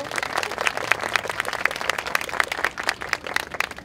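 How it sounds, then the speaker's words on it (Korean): An audience at a university debate forum claps in a burst of fairly sparse, distinct handclaps that continue steadily for several seconds, close and crisp with no voices over them. "박수!"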